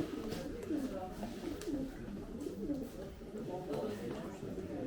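Pigeons coo in soft, rolling bursts, repeated over a busy background of rustling and murmuring voices at a pigeon release in Gelibolu.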